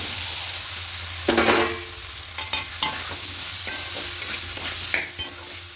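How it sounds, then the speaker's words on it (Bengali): Peas and fried potatoes sautéed with spices in a pan for a vegetarian cabbage ghonto, with a steady close sizzle and repeated sharp clanks and scrapes of a spoon stirring, no voices. "এখানে মটরশুঁটি দিয়ে সমস্ত মশলার সঙ্গে একটু কষিয়ে নিয়েছি। ভেজে রাখা আলুগুলো দিয়ে দেবো।"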